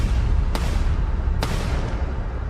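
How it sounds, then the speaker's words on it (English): Two sharp gunshots crack out in an ambush about a second apart, loud against a heavy rumbling background, with no voices. "Shots ring out, multiple shots."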